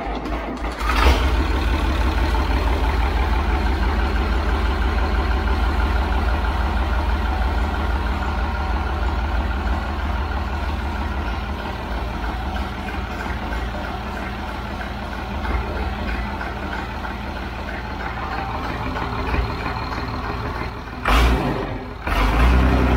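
A Perkins 6.354 diesel, seized for decades, catches on a starter crank and settles into a steady low rumbling idle that runs for about twenty seconds before a short stumble and a clunk near the end.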